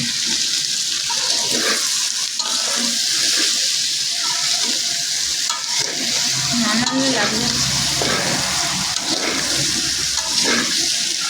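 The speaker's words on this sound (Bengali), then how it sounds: "এই যে সবজিটা ভেজে নেওয়া হচ্ছে" Vegetables fry in a pan during home cooking at a family picnic, giving a steady, close hiss and sizzle that runs unbroken for the whole stretch with no talk over it.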